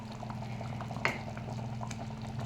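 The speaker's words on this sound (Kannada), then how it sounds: "ಈಗ ಚೆನ್ನಾಗಿ ಕುದಿಯುತ್ತಾ ಇದೆ." Thick drumstick sambar bubbling in a pot, a low steady boil with soft pops and one sharper blip midway, close and alone.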